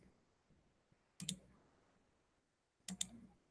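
A computer mouse gives two sharp, close clicks about a second and a half apart, each a quick double tap, in an otherwise near-silent room.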